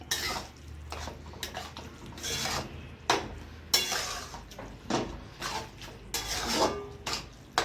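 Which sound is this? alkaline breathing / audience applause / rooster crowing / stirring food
stirring food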